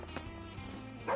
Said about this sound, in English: Oh hey, I hear a dog.